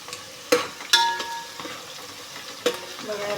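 Onions frying in oil with ginger garlic paste added for chicken biryani, soft sizzling broken by a few sharp scrapes and clinks of a spoon stirring against the pan.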